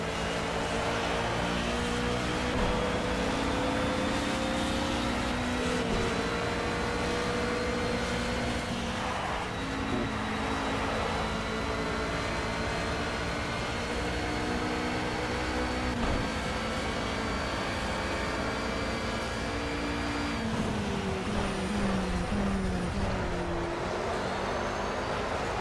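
An LMP2 prototype race car in Project CARS at Road America, its engine loud and close as it accelerates hard, pitch climbing through the gears with a couple of brief drops at shifts, steady and uninterrupted with no talking.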